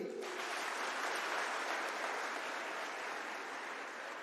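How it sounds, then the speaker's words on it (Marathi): Dense applause from a crowd at a live event, a broad steady clapping wash that holds at full strength throughout, with a brief voice at the start. "एकदा जोरदार टाळ्या होत्या ताईसाठी"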